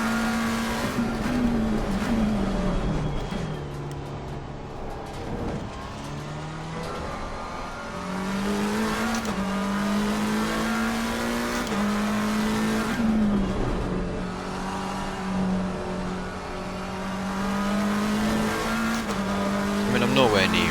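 Engine of a race car in an Xbox racing game revs and climbs through gears, shifting at the corner apex, with tire squeal over laps, loud and continuous with brief dips between shifts.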